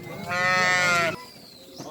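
A goat among a cargo of goats in Hyderabad gives a single loud, drawn-out bleat close to the microphone, followed by faint background noise.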